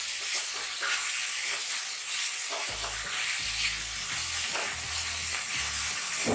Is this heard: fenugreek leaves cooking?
yes